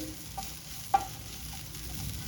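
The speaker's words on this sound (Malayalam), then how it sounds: "കടലമാവ് ഇട്ട് നന്നായി മിക്സ് ചെയ്തു" Gram flour and cabbage stir-fried on high flame in a non-stick pan, a low steady sizzle with a few scraping stirs and one sharp utensil clink, no voices.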